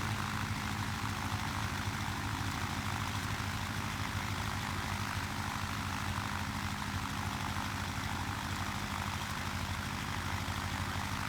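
A Grumman Duck propeller aircraft in Microsoft Flight Simulator 2020 flies by over Wake Island with a steady, droning engine and propeller roar. The sound stays constant and continuous throughout, with no voices.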